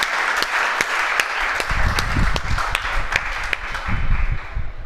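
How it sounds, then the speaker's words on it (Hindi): An audience applauds a woman after a blade and burning-cotton demonstration: steady, moderately loud crowd clapping with sharp individual hand claps standing out, mixed with low rumbling room noise. "मैम के लिए तालियां बजाइए"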